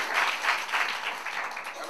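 Church congregation applauding after a healing testimony, a brief, bright burst of many hands clapping in a reverberant room, swelling in gentle waves without speech.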